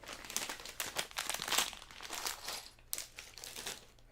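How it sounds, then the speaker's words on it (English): A plastic bag of Lego pieces is crinkled and handled up close, producing soft, irregular bursts of crackling with short pauses between, no talking. "I do like bag crinkling, but I know it can be intense."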